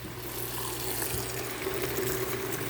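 Liquid rushes through a carbonated water dispenser line fed by about 100 feet of coil, a steady, faint hiss and gurgle with a low pump hum running continuously underneath.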